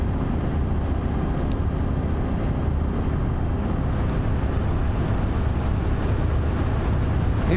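A ship's combustion engine running at sea, heard as a steady, dense low rumble with wind noise on the microphone, constant and unbroken throughout with no voices.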